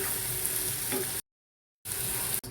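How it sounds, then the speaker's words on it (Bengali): Shrimp frying in oil, a steady hiss of sizzling broken by a short gap of silence, then resuming. "ভালোভাবে মাছটা ভেজে নেব"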